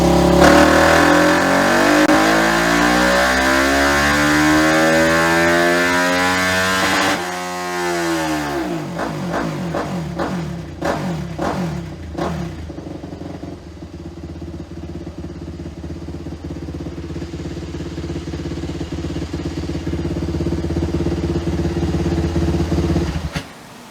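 Bolt-on-tuned flat track motorcycle engine on a dyno, revving hard and steady, then dropping off and blipping through several sharp throttle stabs before settling into a sustained loud run; close and alone, no talk.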